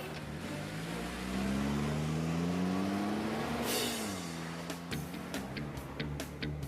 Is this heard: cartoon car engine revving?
yes